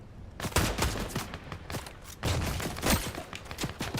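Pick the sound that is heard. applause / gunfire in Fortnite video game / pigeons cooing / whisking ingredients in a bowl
gunfire in Fortnite video game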